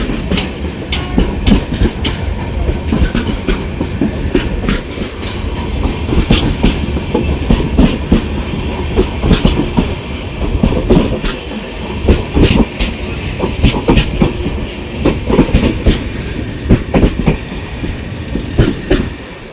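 The Thiruvananthapuram Express runs with its brand-new 2024-built LHB coaches, a loud, steady rolling roar with rhythmic clickety-clack of wheels over rail joints, heard close from on board throughout.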